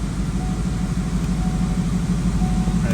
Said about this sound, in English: So we just got to drive it a little bit on the dyno to try to get the fuel to mix in